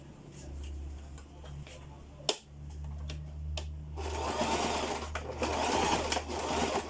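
Sewing machine backstitching a skirt seam, a rapid mechanical whir that runs, pauses with a clack, then resumes louder with a brighter rattling hum, close by and with no speech during the stitching.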